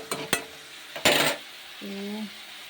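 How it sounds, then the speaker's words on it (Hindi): A spoon stirs an eggplant curry with onion and tomato in a pan, a few sharp scraping clinks close by over a faint sizzle, then a brief tonal squeak. "सब्ज़ी बन रही है, सिर्फ बैंगन की सब्ज़ी। इसमें मैंने सिर्फ प्याज और टमाटर डाला है"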